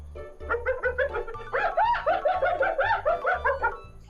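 Loud, rapid giggling laughter call of a hyena, a rising and falling series of whooping cackles running continuously for about four seconds over a pulsing low background.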